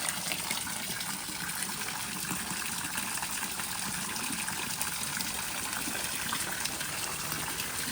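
Water pours steadily into a bamboo glass with a continuous splashing gush that stays even and fairly close throughout.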